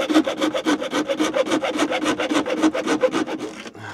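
Bare hacksaw blade cutting through a Fiat Ducato motorhome dashboard, a quick, steady run of rasping back-and-forth strokes heard close up, ending abruptly.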